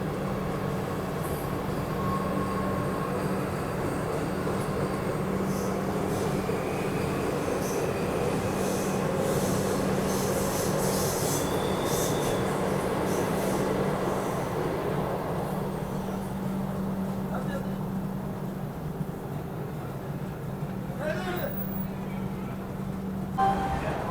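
The Coromandel Express pulls out of Ongole station and picks up speed, giving a steady rolling rumble of wheels and carriages with a constant low hum and occasional faint squeals, heard close and continuously.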